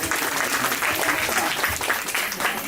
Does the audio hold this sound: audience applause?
yes